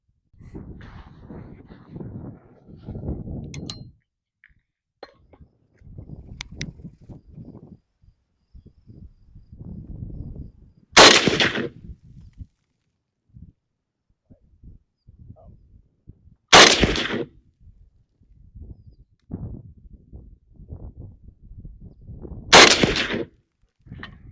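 Three sharp, loud rifle shots from a Century Arms VSKA at a 100 meter range, spaced several seconds apart, with quiet outdoor background and faint movement between them.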